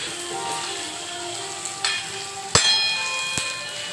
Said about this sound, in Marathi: चांगला ते ब्राऊन होईपर्यंत भाजून घ्यायचा